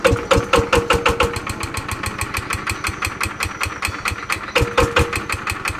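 A Zanma NS 110 motorcycle engine running with an old oil pump: a close, loud, fast, even chugging idle with rapid regular firing pulses, alone without voices.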